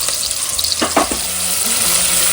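Onion, a bay leaf and curry leaves fry in hot oil, a loud, dense, steady sizzle with a few brief stirring clatters early on.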